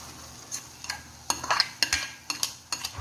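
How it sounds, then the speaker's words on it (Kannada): Cooked green gram goes into a pot of dill leaves, with a quick series of sharp spoon scrapes and clinks against the metal pot over a faint background sizzle, close and intermittent. "ಈಗ ಇದು ಸರಿಯಾಗಿ ಬೆಂದಿದೆ ಇದಕ್ಕೆ ನಾನೀಗ ಹೆಸರು ಕಾಳು ಹಾಕ್ತಾ ಇದ್ದೀನಿ"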